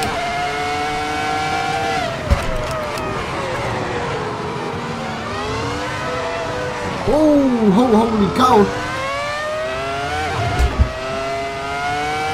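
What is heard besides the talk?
Ferrari F2004 V10 engine racing in Assetto Corsa video game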